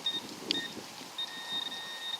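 A metal detector beeps steadily, a sustained high pitch that breaks off briefly and resumes, with a short sharp chirp partway through over a zinc penny; fairly quiet with faint background rustle.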